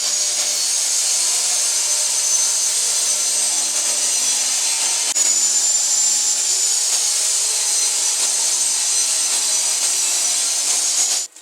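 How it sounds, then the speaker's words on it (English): Power saw ripping through plywood for cabinet side panels, a loud steady high whine sustained for about eleven seconds before cutting off at the end. "Now it's time to cut the plywood for the side panels."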